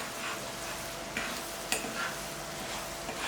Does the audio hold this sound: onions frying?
yes